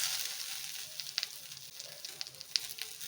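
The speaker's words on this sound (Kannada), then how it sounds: "ಇದೆಲ್ಲ ಸ್ವಲ್ಪ ಇದರಲ್ಲೇ ಫ್ರೈ ಮಾಡ್ಕೊಳ್ಳೋಣ" Kasuri methi, mint and coriander fry in a pan for chicken biryani, giving a quiet, steady sizzle with small crackles and pops scattered throughout.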